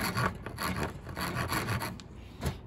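A rasp filing wood on an electric guitar body, giving a close, steady series of rough scraping strokes in an even back-and-forth rhythm.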